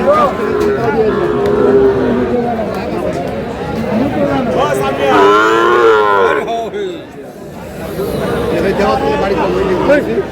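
Young Sahiwal bull calves, around six months old, moo loudly and repeatedly at a busy cattle market, their long calls rising over constant crowd chatter and nearby voices.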